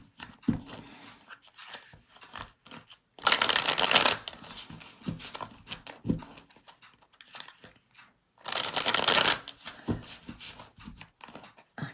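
Tarot cards being shuffled in two loud, dense riffling bursts of about a second each, close up, separated by softer handling taps and card slaps.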